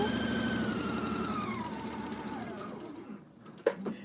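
A sewing machine runs steadily, stitching quilt half square triangles one after another in a continuous chain, close and fairly quiet, then slows and stops with a couple of sharp clicks at the end.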